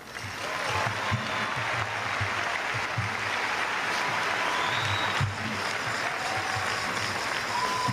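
Sustained applause from a large crowd at a 2023 Eastmont High graduation ceremony, dense and steady for the whole stretch, with faint voices and cheers mixed in.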